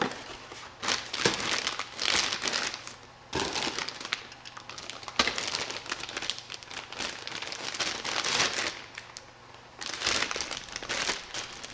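Loose packing cardboard from a Tamiya Dynahead 6x6 G6-01TR kit box is crinkled and crushed by hand in close, repeated bursts of rustling with brief pauses.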